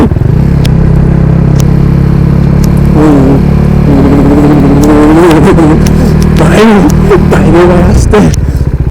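A motorcycle ridden on a cold day, its engine rumbling loudly and steadily close by under heavy wind buffeting while someone talks over it.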